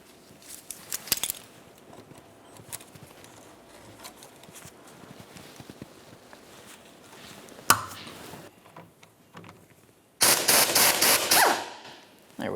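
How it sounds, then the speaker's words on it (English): A 14mm wrench works a sway bar link nut on a 1997-2003 Pontiac Vibe during a strut mount job: faint ratcheting clicks and metal taps, a sharp clank, then a loud burst of rapid rattling clicks. "I'll use my 14mm to remove my nut."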